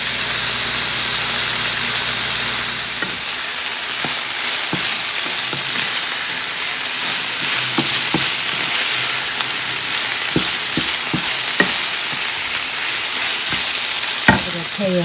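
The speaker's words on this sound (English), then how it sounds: "I cut up the Italian sausage into little bits, and then I'm going to fry it" Italian sausage cut into small bits fries in a pot with a loud, continuous sizzle, broken by sharp crackles and pops and a stir partway through.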